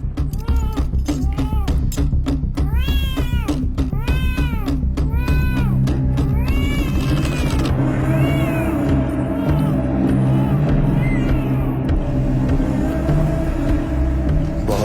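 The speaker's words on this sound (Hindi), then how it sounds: "जाओ, जाकर बिल्ली को देखो।" A cat meows repeatedly in rising and falling wails, loud and close, over a dense, constant rumble of background sound and music that continues after the calls fade.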